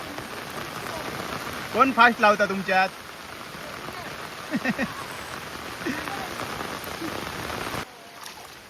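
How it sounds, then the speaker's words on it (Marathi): Heavy rain pours steadily over muddy paddy fields, a dense continuous hiss close by, while people talk briefly over it. "जोरात पाऊस इलो."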